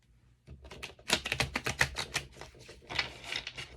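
A quick burst of crisp, rapid flicking and riffling as a deck of tarot cards is shuffled close by, followed by a few softer taps.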